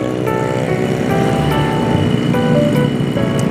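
A two-stroke motorcycle engine, a Total Grand Prix 2T, rides at night with a steady, loud droning hum that holds constant throughout, no voices.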